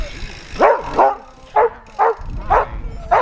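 A dog barks in a steady series of six sharp, close, loud woofs at roughly half-second intervals, with a little background rumble between them, on a Tour Divide cycling trip.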